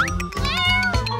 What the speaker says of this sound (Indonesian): kucing kecil yang lucu ini